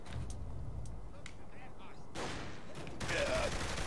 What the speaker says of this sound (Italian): adesso ci stanno sparando, ci stanno sparando